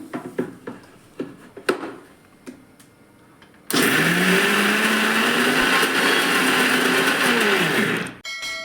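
A few light knocks and clatters, then a mixer grinder roars to life grinding green gram dosa batter, whirring loudly and steadily for several seconds before switching off.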